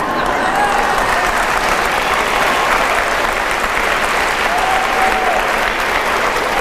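A seated audience gives a priest a sustained, dense round of applause at a talk on family life, steady and loud for several seconds with faint voices and a whistle or two mixed in.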